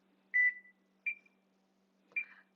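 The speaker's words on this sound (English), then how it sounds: "So I'm going to put the timer on" A kitchen timer gives short, clear electronic beeps as buttons are pressed to set it, four separate chirps at irregular intervals in an otherwise quiet room.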